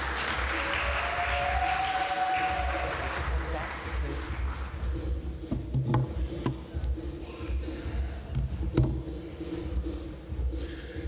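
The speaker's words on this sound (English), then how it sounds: "How about another round of applause for the champion of Fa'afafine advocacy and football legend" Festival audience applauds, a broad wash of clapping that swells early and then tapers into scattered claps and crowd noise, with voices and cheering mixed through.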